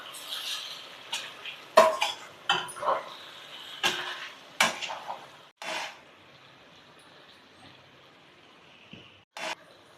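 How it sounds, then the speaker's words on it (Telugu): Telangana-style chicken fry being stirred and fried in a pan, with repeated metallic scrapes and clanks of a spoon against the pan over a steady low sizzle. "ఒక 5 మినిట్స్ అయితే ఇది మళ్ళీ వేయించుకోవాలండి చికెన్ని"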